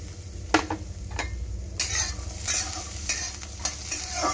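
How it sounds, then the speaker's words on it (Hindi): Makhana and green chillies roast in a pan, giving a soft dry sizzle while a spoon stirs and scrapes them, with sharp clinks against the pan every second or so. "मखाने के साथ ही मैं इसमें थोड़ी हरी मिर्ची भी सेक लूंगी।"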